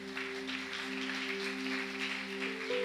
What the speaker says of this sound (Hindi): ताली बजाइए उस परमेश्वर के लिए